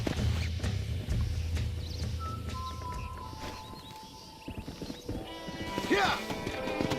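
Horse hooves clip-clop in a video game, a steady trotting beat up close that fades midway, then a neigh and rising whinny near the end, with faint voices and ambient game sounds around it.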